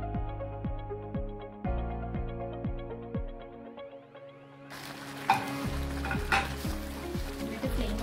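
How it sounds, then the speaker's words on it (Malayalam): A Kerala-style duck egg curry bubbles steadily in a pan on the stove, with a hissing simmer that swells louder partway through and light utensil clinks against the pan. "കറി ഇപ്പോൾ നന്നായിട്ട് തിളച്ചിട്ടുണ്ട്"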